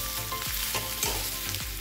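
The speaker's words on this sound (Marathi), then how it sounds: "आता आपल्याला असं परतवून घ्यायचा आहे" Bitter gourd stir-fries in a pan with a steady close sizzle, and a spatula scrapes and tosses the slices in several quick strokes.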